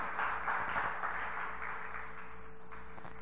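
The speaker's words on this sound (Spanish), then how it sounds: "Den un aplauso al Señor." Church congregation applauding during a Spanish-language prayer service, a steady wash of clapping with a low hum underneath, fairly even and moderately loud across the short span.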